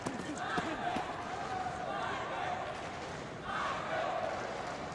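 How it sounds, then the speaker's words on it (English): At an Olympic qualifying welterweight boxing bout, an arena crowd chants in rhythmic waves that rise and fall, a commentator talking over the roar. "The crowd chanting Michael."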